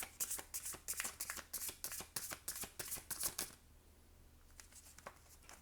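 A deck of playing cards being shuffled up close, a quick run of crisp riffling bursts for about three and a half seconds, then a few softer card handling sounds in near silence.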